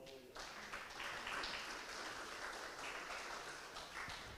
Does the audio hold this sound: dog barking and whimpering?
no